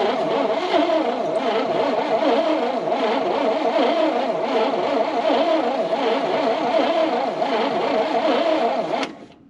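Engine of a 1970 International 4x4 pickup with a Holley carburetor being turned over, a loud steady rhythmic cranking churn that runs continuously for about nine seconds before cutting off.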